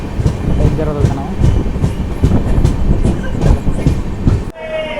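Kacheguda Express (12786, Mysuru to Kacheguda) rolling on the rails out of Hindupur station, with a loud, steady rumble and rhythmic clatter of the wheels. The noise cuts off sharply near the end.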